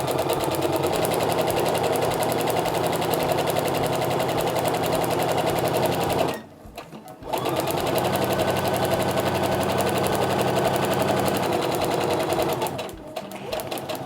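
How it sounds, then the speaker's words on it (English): A sewing machine stitches a straight paper-pieced quilt seam with a fast, even mechanical chatter, pausing briefly midway and again near the end before resuming. "I'm just gonna sew straight down the line between 2 and 3."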